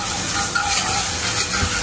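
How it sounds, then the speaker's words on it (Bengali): Paratha frying in a hot pan at home, a steady close sizzle with faint stirring and scraping running throughout without pause. "পরোটা ভাজা হচ্ছে"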